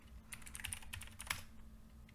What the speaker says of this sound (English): Same command, just press up on the keyboard.